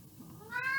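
A cat meows once, a short rising cry that starts midway and sits close and fairly clear over a quiet room background.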